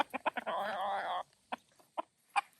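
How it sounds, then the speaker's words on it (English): A small hen clucks on a farm, several short sharp clucks followed by a sustained squawk, then sparse single clucks spaced apart, close and clear. "are you protecting this little hen?"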